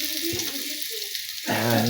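Garlic dropped into a hot pan while sautéing bottle gourd in home cooking: after a quiet stretch with faint kitchen clatter, a loud, close, steady sizzle bursts in and keeps going.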